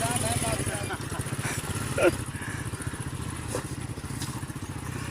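A motorcycle loaded with sacks runs with a steady, buzzing engine rumble from start to finish, close and fairly loud, with a brief thump near the middle and people talking.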